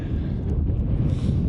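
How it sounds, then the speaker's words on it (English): Mountain wind at Engineer Pass, Colorado, buffets the microphone in a continuous low, rumbling roar, close and fairly loud, with no talking. "It's windy."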